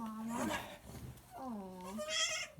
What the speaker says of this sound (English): Oh, the baby goat wants me.